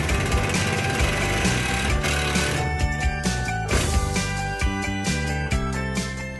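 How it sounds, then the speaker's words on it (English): A screw driven with a power driver into a ready-to-assemble kitchen cabinet through a countersunk pilot hole, a loud continuous mechanical whirring and ratcheting with brief pulses, close up and uninterrupted by talk. "now the screw goes in nice and easy"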